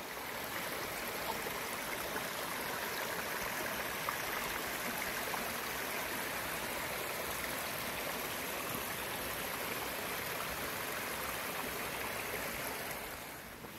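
A mountain stream on the Pacific Crest Trail in cold, wet Washington rushes with a steady, close, broadband wash of flowing water. It holds constant throughout with no talk.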